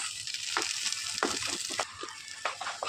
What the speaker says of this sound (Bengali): পুরো একদম 10 মিনিট ধরে ভালো করে নাড়াচাড়া দিয়ে নেবে কড়াইতে।